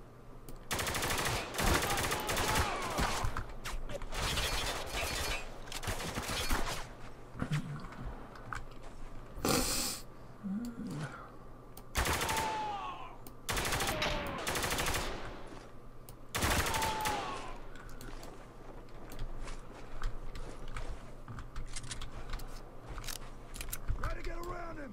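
Gunfire in the shooter game Spec Ops: The Line cracks out in loud bursts, rapid automatic volleys and single shots spaced across the stretch, with a voice speaking between them.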